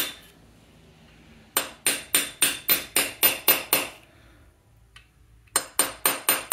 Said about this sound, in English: Again, I'm using a brass punch, so hopefully I don't hurt anything.